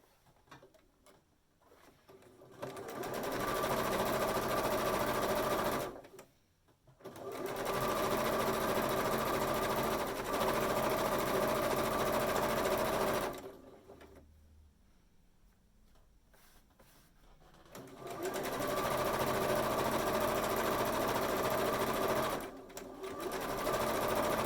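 A domestic sewing machine stitches the long edge of fabric bag straps in three steady runs, each lasting several seconds and separated by short pauses, loud and close with no voices.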